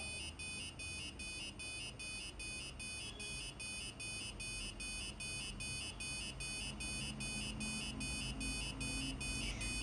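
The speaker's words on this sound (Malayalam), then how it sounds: "ഇവിടെ നമ്മുടെ ബസർ 2 ഫ്രീക്വൻസിയിലാണ് ഇത് സൗണ്ട് വന്നുകൊണ്ടിരിക്കുന്നത്, അലാം കേട്ടുകൊണ്ടിരിക്കുന്നത്" Piezo buzzer driven by an Arduino sounds an alarm that alternates between two pitches in a rapid, steady pulsing pattern, continuous and fairly loud over a low background hum.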